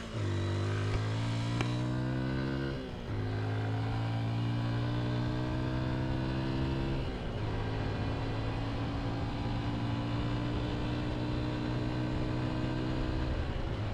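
A 2023 Honda XR150L motorcycle engine runs steadily and close during a test ride, holding a buzzy single-cylinder drone with a couple of shifts as the revs drop and climb again.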